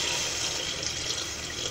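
About 900 ml of water poured into a pan of sautéed chicken to make broth for gluten-free cassava coxinha dough, a continuous rushing, splashing pour heard up close with no speech.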